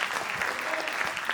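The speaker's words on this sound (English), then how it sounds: "Let's give a round of applause to our panelists today" A conference audience applauds its panelists with steady, dense clapping throughout, the crowd sounding fairly close.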